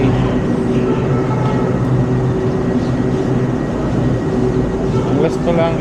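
An LRT light-rail train pulls into Dr. Santos Station, the last stop on the line, with a steady loud rumble and hum of the train running throughout and a few squeals near the end.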